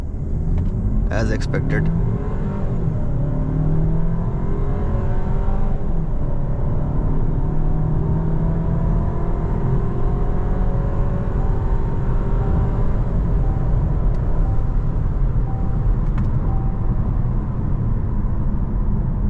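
A VW Tayron R-Line car accelerates from 0 to 100 km/h in eco mode, its engine a loud steady cabin rumble with rising tones as it gains speed, while a voice briefly speaks.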